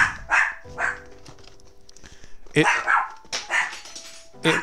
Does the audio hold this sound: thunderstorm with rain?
no